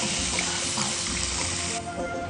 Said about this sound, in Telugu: కొంచెం వాటర్ పోద్దామండి.